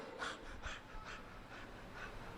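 A human voice imitating people panting hard after running, rapid rhythmic breathy huffs repeated several times, faint and close.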